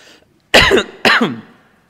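Two sharp, loud coughs in quick succession, close by, followed by silence.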